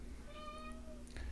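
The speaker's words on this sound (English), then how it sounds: "My cat Houdini's making noises over there" A pet cat gives a single drawn-out meow, faint and somewhat distant against a steady low room hum, with a short rustle just after.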